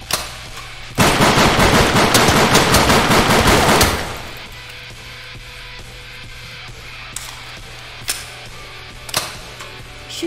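Rapid automatic gunfire from a video game as a player empties every bullet, a loud dense burst lasting about three seconds, followed by quieter ambient game noise with a few isolated shots.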